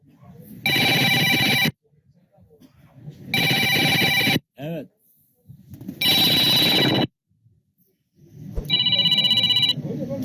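A telephone rings in loud, repeated bursts of an electronic ringtone, four rings separated by short silences, with a brief spoken word between them.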